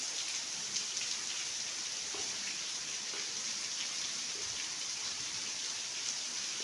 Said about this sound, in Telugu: ఇది చాలా బాగుంది, బాగా పడుతున్న వర్షం.